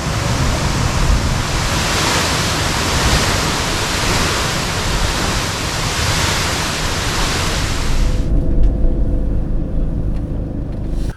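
A waterfall pours as a loud, steady broadband roar heard up close, continuing unbroken before dropping away sharply near the end.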